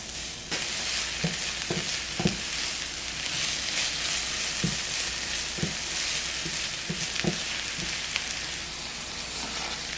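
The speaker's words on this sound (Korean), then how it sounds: "팬에 오일 1큰술 두르고 채 썬 양파를 먼저 넣으세요. 양파의 향이 올라올 정도로만 볶아줄게요." Thinly sliced onions stir-fry in a tablespoon of oil in a pan, giving a steady close sizzle and hiss with scattered crackles and soft stirring scrapes throughout, no voices.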